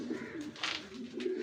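A Danish pigeon coos softly in a couple of low, rounded, throaty calls, quiet and close, with no voices.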